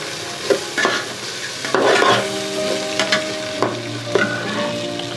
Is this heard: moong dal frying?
yes